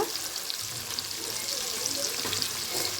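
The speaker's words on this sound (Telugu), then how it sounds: "పచ్చిమిరపకాయలు కూడా, ఉల్లిపాయలు కూడా వేసేసుకుంటున్నాను" Chopped green chillies and onions fry in a hot pan with a steady, bright sizzle and crackle, occasional stirring scrapes mixing in, no voices over it.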